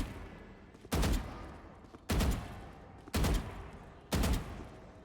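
Four evenly spaced bursts of rapid gunfire ring out in the Valorant video game, each about a second apart and loud and close, with a steady low background hum between them.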